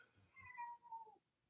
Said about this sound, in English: Princess Kitty Cat is in the background meowing.